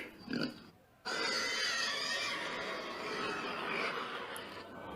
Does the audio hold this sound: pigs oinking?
yes